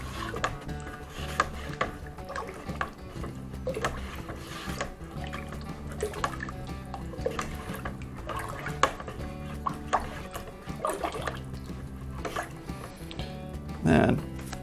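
Yeast being stirred into mango mead must, with repeated scraping, sloshing liquid and clinks of a utensil against the vessel, close and fairly quiet, ending in a louder knock.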